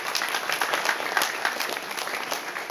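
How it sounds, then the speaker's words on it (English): Classroom of school students applauding a classmate, a steady, lively patter of many small hands clapping at moderate distance, continuous and fairly even. "Clap for him."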